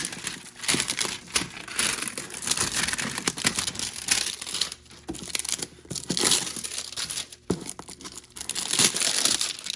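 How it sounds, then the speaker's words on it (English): Heat shrink plastic wrap is cut and peeled off a boxed jigsaw, giving close, irregular crinkling and tearing rustles in uneven bursts with short pauses between. "It's actually in some heat shrink here, so let's go and cut that here, peel it off."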